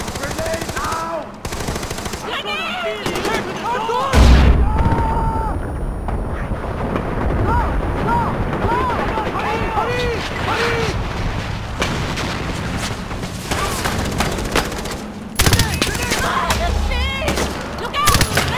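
Grenade blasts and bursts of gunfire in Far Cry 4, loud and dense throughout, with heavy booms near the start and end and shouted game voices over the combat.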